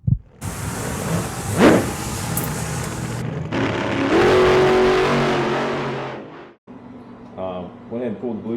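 Engine of a blue Chevrolet squarebody truck revving as it pulls into a yard, loud and close, rising in bursts, briefly cutting out, then idling low at the end.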